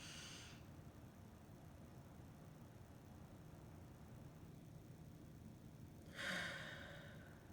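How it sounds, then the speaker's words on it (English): Slow breathing for anxiety relief: a breathy exhale at the start, a long quiet stretch of held breath, then another airy breath sound near the end, close and soft. "breathe in your mouth. Hold in however long you want to, and out your nose or out your mouth."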